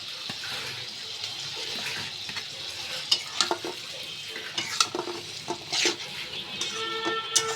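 Spice masala sizzles and fries in a pan for a gulsha fish curry while a spatula stirs and scrapes it, giving a steady hiss broken by irregular sharp clinks and scrapes close by, with no talking.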